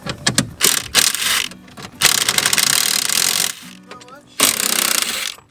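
Bursts of ratcheting and a power driver spin out 10 mm bolts on a Ford Super Duty fuse panel, close and loud in several separate runs with short pauses between them.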